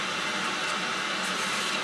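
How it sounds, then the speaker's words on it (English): Steady broadband whooshing hum of a home oil furnace running in the background, constant and moderately faint with no other sounds. "that noise is my furnace, my oil furnace"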